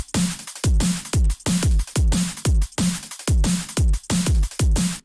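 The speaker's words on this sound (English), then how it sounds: "And then we have drums here, which sound like this." Drum and bass style electronic drums for a Friday Night Funkin' mod track, a fast loud pattern of punchy kicks and crisp snares repeating in a steady driving groove, alone.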